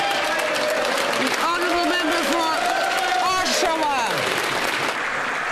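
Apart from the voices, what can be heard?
applause in parliament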